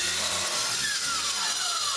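A WEN track saw cutting through plywood sheet goods, a loud, steady motor whine and blade roar running the whole time with no talking.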